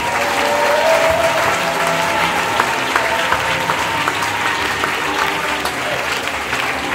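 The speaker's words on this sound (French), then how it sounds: "acclame le Seigneur Jésus-Christ" A church congregation breaks into steady, loud applause that fills the room, with a few cheering voices mixed in.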